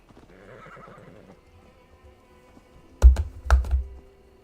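A horse in Assassin's Creed Valhalla on PS5 whinnies in a short burst, then two loud hoof thuds come close together, with faint game ambience beforehand.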